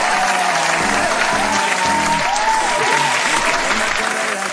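A crowd at the 2023 Raffle City Music Festival cheers and applauds loudly and continuously, dense clapping and shouting up close, with a voice calling out over the noise.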